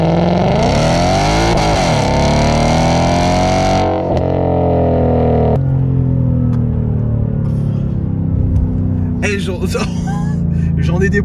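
A 2018 Ford Mustang GT V8 revs up hard while driving, climbing in pitch then dropping as it shifts, loud and close, before settling into a lower cruising drone with a voice talking over it.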